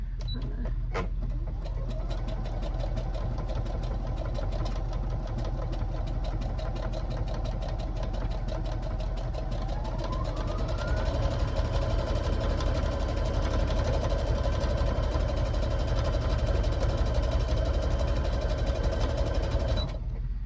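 A sewing machine stitches a lounge gown for about twenty seconds, a steady close mechanical hum with rapid needle ticking, its pitch rising partway through as it speeds up, with no talking.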